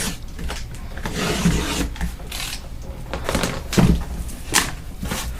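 Cardboard packaging for a Blue Hawk 2-gallon twin-stack electric air compressor being opened nearby, with scraping, rubbing and rustling bursts and a few sharper thumps from handling the box, no talking.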